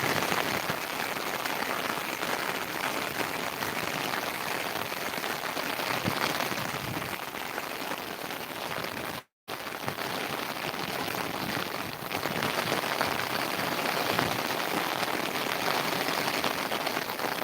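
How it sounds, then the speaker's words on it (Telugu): Rain showers fall steadily on an Indian village, a dense and even patter that continues unbroken for the whole stretch apart from one momentary cut, with no talking. "ఇలానే పడతా ఉంది జల్లులు జల్లులుగా పడుతుంది అన్నమాట"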